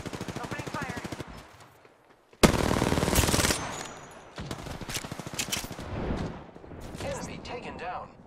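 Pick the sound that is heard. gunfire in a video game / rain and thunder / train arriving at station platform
gunfire in a video game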